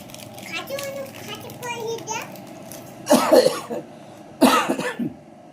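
Two sharp, loud coughs break out near the end, following a stretch of a voice and quiet background activity.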